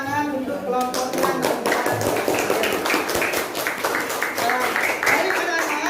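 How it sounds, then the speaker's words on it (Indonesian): A classroom of students claps in a burst of quick, scattered applause after a group presentation, with voices talking over it. "Baik, beri tepuk tangan untuk kelompoknya."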